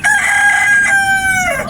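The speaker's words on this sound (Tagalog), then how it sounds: "Yung ating mga manok ay ang nag-iingay na." A rooster crows once, loud and close, in a backyard where cherry tomatoes grow in pots. The single drawn-out call fills the whole moment.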